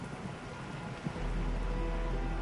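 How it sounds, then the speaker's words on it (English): Heavy rain pours steadily in the video game Arknights Endfield, a dense continuous hiss with a deeper rumble that swells midway and holds, no voices over it. "It is raining really hard now,"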